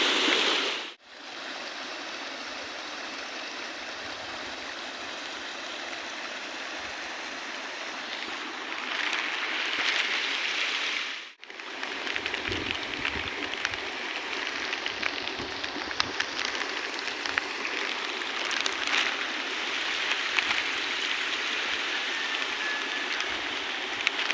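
A village stream runs full after heavy overnight rain, a steady rushing flow throughout, growing louder and more turbulent midway with a brief break.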